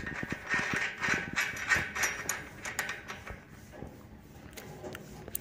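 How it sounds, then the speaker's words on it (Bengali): Metallic ratcheting clicks and small clanks come from a nut being fitted and snugged onto a 60-volt electric loader rickshaw with a 1500W motor, close and fairly steady for a few seconds before easing off. "তো আমাদের নাটটা লাগিয়ে নেবো"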